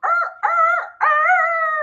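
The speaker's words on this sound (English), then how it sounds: "our neighbors have a rooster, and it legit, like, you can hear it screeching" A rooster crows, loud and near, in three drawn-out harsh calls, the last one longest, with no other sound.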